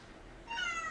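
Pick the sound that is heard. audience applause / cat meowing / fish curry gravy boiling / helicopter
cat meowing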